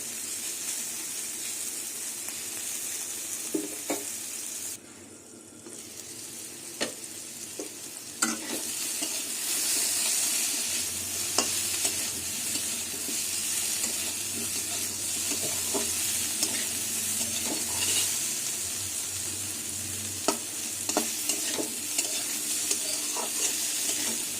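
Pumpkin pieces frying over a low gas flame give a steady, close sizzle with occasional stirring scrapes and clinks, running continuously without talk.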